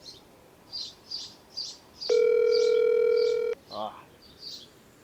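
An unanswered phone call plays one long, steady ringback tone lasting about a second and a half, while birds chirp repeatedly nearby.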